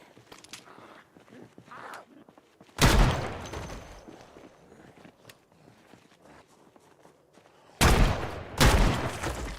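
Desert Eagle pistol shots in Project Zomboid ring out in two loud bursts, one near the start and a sharper pair toward the end, with quiet shuffling and footstep-like noise in between.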